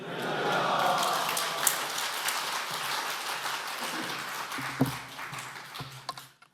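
A congregation at a Korean men's mission society prayer meeting applauds to welcome a missionary, an elder pastor from Chongqing, China. The clapping is dense and steady throughout, swelling early and then easing with a few sharper claps near the end.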